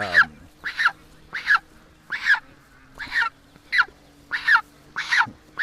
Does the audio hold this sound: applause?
no